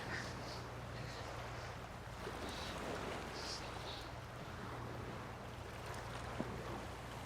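Steady sea wind and surf wash together in a continuous low roar at a beach, with faint distant sounds rising briefly above it.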